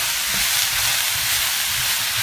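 Garlic slices frying in a pan give a steady, close bright sizzle with soft crackling throughout and no pauses.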